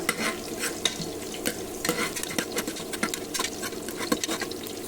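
Chopped onions frying in a pan toward a brownish colour, a steady close sizzle broken by frequent scraping and stirring clatters, with no talk.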